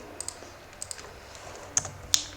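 Scattered keystrokes on a computer keyboard while a folder name is typed in a VS Code coding setup, a few light clicks spaced apart and then two sharper, louder taps near the end, close and alone.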